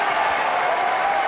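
Crowd applauding at a combat jiu-jitsu match, a dense, steady roar of clapping from a packed room, loud and continuous throughout.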